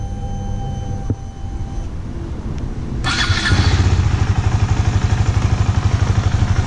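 KTM Duke 250 motorcycle engine starting: a quiet electrical hum, then the starter catches and the single-cylinder engine settles into a loud, steady pulsing idle close by.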